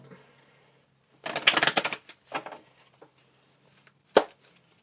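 Tarot cards shuffled by hand, a dense rapid riffle burst followed by a few softer shuffling rustles and one sharp snap near the end, close and fairly quiet.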